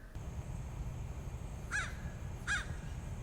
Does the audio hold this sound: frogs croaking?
no